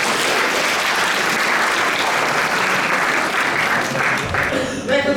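A studio audience at a live talk show breaks into full, steady applause, loud and dense, thinning out near the end as a voice starts to speak.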